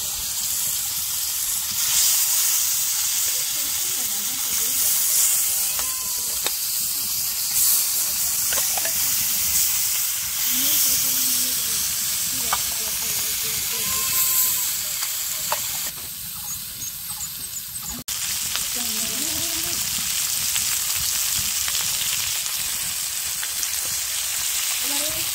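Fish sizzling in hot mustard oil on a heated tawa, a steady, dense crackle and hiss that runs throughout, with occasional louder spits and a voice talking over it.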